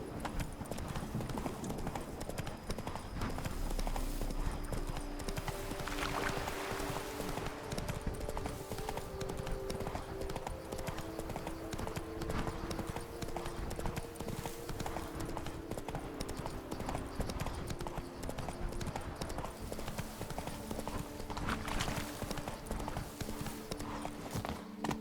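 Roach the horse gallops in The Witcher 3 with a steady, rapid clip-clop of hooves that runs continuously under layered game music and ambience.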